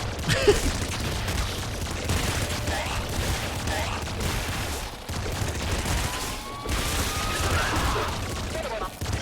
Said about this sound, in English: It's a lot of walls being shot right now.